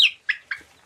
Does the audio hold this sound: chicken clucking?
yes